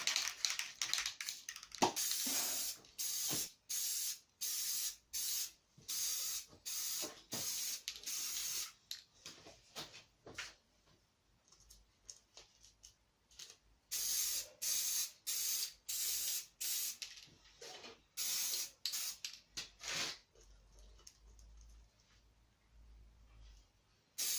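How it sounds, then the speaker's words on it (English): Spray paint top coat going onto an air rifle's camouflage finish, short repeated hissing bursts from the can with brief pauses between them, close and steady. "That's the top coat going on"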